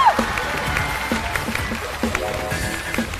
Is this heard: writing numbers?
no